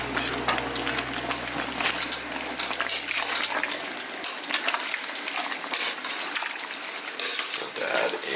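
Smoky New Orleans-style collard greens are stirred in a big pot, giving wet, sloshing and scraping sounds with light metallic clinks in irregular bursts. A low hum fades out partway through.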